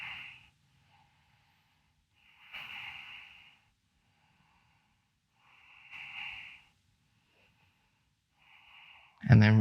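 Steady, controlled yoga breathing while holding a side angle pose: close, airy inhales and exhales come in slow, evenly spaced bursts with quiet gaps between them, ending on a sharper, louder breath.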